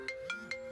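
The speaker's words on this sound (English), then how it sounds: "we just can't get the phone to stop ringing" Electronic telephone ringtone, three evenly spaced bursts of warbling tone roughly a fifth of a second apart, clear and moderately loud with a steady background hum.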